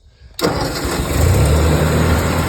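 A forage chopper engine fitted with electronic ignition cranks and catches, then settles into a steady, loud running roar up close, with no talking over it.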